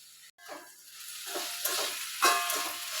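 Okra mezhukkupuratti, a Kerala-style stir-fry, sizzles in a pan with soft stirring scrapes coming in several waves, fairly close and steady, with no one talking.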